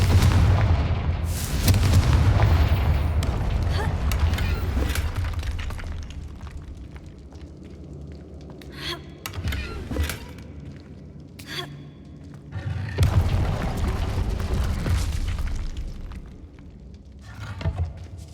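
Booming blasts from the Confringo fire spell in the wizarding game Hogwarts Legacy, several heavy explosions with rumbling tails rising and fading over a low background, with sharp cracks in between.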